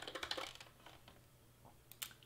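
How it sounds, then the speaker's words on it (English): Quick keystrokes on a computer keyboard, a fast burst of close, crisp clicks followed by a few scattered taps, with no talking. "I'm gonna go to text and I'm gonna type in Charlotte."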